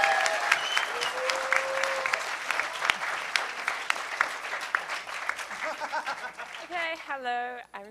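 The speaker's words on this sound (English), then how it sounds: "Let's give a huge round of applause for the Meta Lab for getting that going" An audience at the 2008 Last HOPE hacker conference breaks into loud, sustained clapping with scattered chuckles, and a voice starts speaking as the applause fades.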